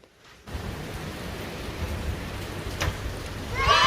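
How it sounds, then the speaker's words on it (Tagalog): Rain falls outdoors in the Philippines as a soft, steady hiss. It begins after a brief quiet moment and carries on evenly, with a few faint clicks and drips near the end. "Muulan ngayon."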